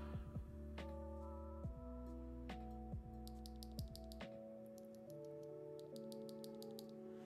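Mechanical keyboard fitted with B-Sun BCP and Red Jacket switches being typed on, giving steady clacky keystrokes over a constant low hum, with brief bursts of faster ticking.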